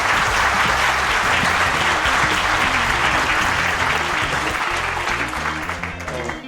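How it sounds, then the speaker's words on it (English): A conference audience applauds at the close of a talk on ASHRAE Standard 241 for control of infectious aerosols. The clapping is loud, dense and sustained throughout, easing slightly near the end. "a wonderful round of applause for Bill."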